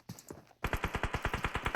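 Automatic gunfire in PUBG Mobile, a rapid, evenly spaced burst of shots, loud and close, following a few softer, scattered shots.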